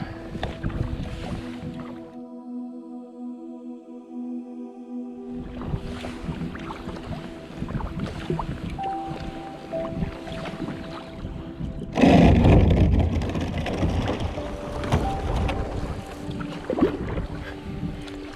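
A kayak moves along an icy Swedish river and lake, with soft, irregular paddle splashes and water swishes close by. Wind and open-water ambience sit beneath them, and the splashing grows louder and busier partway through.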